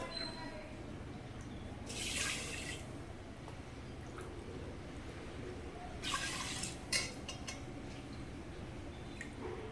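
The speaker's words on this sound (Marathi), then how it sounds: "आता एक वाटी मूग होते तर आपण तीन वाट्या पाणी घालणार आहोत" Water poured from a cup into a pressure cooker holding washed green mung beans, in two separate rushing pours with a quiet stretch between them over a steady low background.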